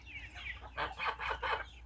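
A small mixed flock of about six hens and three young roosters clucking close by, a run of four quick, rising calls after a quieter start, with no talking.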